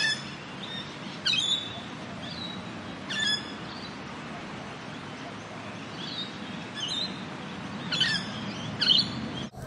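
A swamp hen at a lake chirps close by in short, scattered bursts of high calls over a soft outdoor background.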